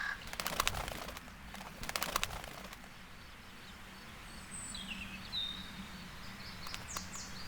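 Crows caw in a natural outdoor setting, a few short harsh calls sounding at moderate distance over steady ambient background, with some louder rustling bursts early on.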